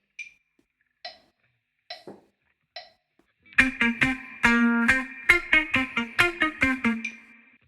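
Four sharp metronome clicks lead into a guitar playing bar 80 of a song, a clipped rhythmic pattern of short plucked notes and chords over the steady click, with no talking.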